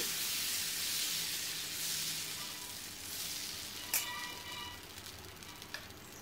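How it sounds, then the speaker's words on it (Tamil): Dosa batter for masala dosa sizzles on a hot griddle kept at medium-high heat, a steady bright frying hiss throughout with a few faint clicks, no talking. "இப்போது தோசையை ஊற்றிடுங்க"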